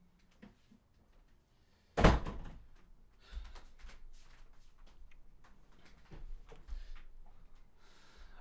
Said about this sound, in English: open my door. She wants to go out